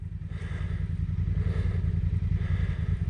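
An off-road motorcycle on a Pyrenees and Bardenas trail ride runs at a steady, throbbing engine pulse over rough ground, close and loud, with light clattering over the ride.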